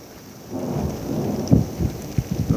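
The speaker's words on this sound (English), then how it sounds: "Ooh, that's some good light or thunder." Thunder rumbling through a rainstorm during a power outage, a low roll building in and cracking in several loud bursts over a steady hiss of rain.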